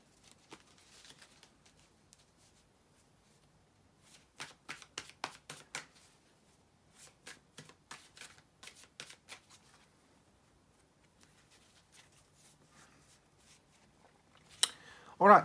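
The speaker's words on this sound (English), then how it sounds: "bear with me a couple of seconds, guys, to shuffle the tarot cards" Tarot cards are shuffled in several quick bursts of crisp riffling, separated by quiet pauses, ending with a louder rustle.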